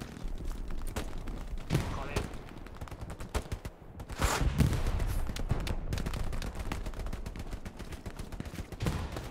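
Gunfire in the World War II shooter game Hell Let Loose, with dense bursts of rifle and machine-gun shots cracking near and far across the battlefield, and a few louder close blasts under excited voices from players talking.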